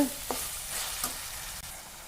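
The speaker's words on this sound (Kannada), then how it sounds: "ಇನ್ನೊಂದು ಸ್ವಲ್ಪ ಹುರಿಬೇಕು" Frying and stirring in a pan while making palak cabbage manchurian: a soft, steady sizzle with a few light scrapes of a spoon, fairly quiet and close.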